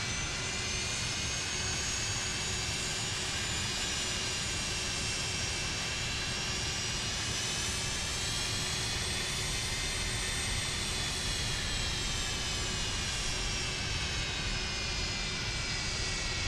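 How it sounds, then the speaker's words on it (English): Steady, loud airplane engine drone with a high whine as the aircraft taxis along an airport taxiway toward a long runway before a pre-delivery test flight, continuous and unbroken throughout. "Then we're taxiing down Bravo"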